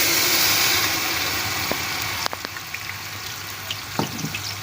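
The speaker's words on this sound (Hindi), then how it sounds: "हमने एक बर्तन में ले लिया 1 बड़ी प्याली घी गर्म हो चुका है। प्याज जो हमने पहले से पेस्ट बना के रखा था ये इसमें डाल देंगे।" Onion paste hits hot ghee in a cooking pot, giving a steady sizzle and a few soft clicks and knocks.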